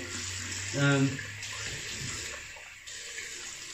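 Water runs steadily from a tap into a basin, a continuous close splashing hiss with a brief tonal hum near the start.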